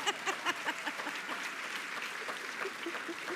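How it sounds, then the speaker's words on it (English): An audience at a university graduation ceremony applauds, a steady wash of many hands clapping with distinct nearby claps standing out, moderately quiet and heard from within the hall. "Now you can applaud."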